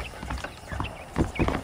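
Horse hooves clip-clop at a steady walking rhythm in the Western video game Red Dead Redemption, close and moderately loud, with a few faint background sounds between the hoofbeats.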